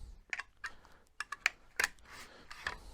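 Handles are pushed into place while assembling a SCAR-20S rifle, giving a string of sharp, close plastic clicks and taps in an irregular rhythm, with no one talking.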